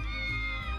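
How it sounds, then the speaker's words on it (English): A short, tonal cat meow from the video game Triangle Strategy rises clearly over a soft game soundscape, heard alone. "Is that a cat? Oh, it's a kitty cat."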